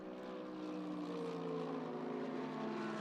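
A mid-engined Ferrari GT race car with a turbocharged V8 drones at Indianapolis during a GT World Challenge America race, its faint, distant engine tone holding steady with a slowly rising pitch.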